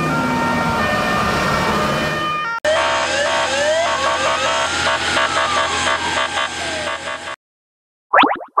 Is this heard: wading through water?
no